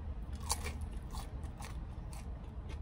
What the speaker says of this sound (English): Some French fries.